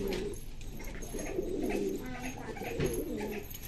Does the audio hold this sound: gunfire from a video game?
no